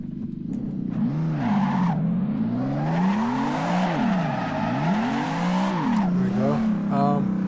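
A car in Assetto Corsa slides through a drift, engine revving up and down in sweeping waves while the tires squeal continuously, loud and close, for the full stretch.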